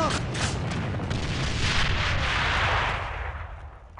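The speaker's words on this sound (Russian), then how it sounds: "Бросаю гранату противника" A grenade explosion in the online shooter A.V.A: a loud, dense, sustained roar of blast and rumbling gunfire fills about four seconds, tapering slightly at the end, with no speech over it.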